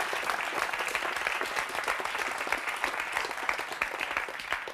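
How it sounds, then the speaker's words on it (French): Loud, dense applause from a studio audience on a French television show, steady sustained clapping with a faint murmur of voices underneath. "On applaudit très très fort ce monsieur."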